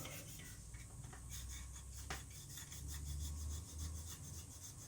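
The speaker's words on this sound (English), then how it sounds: "Here am I trying to rub off some silvering then." Close, quiet rubbing on a scale model decal to remove silvering, a dry scratchy back-and-forth friction with irregular strokes and faint low hum beneath, no talk.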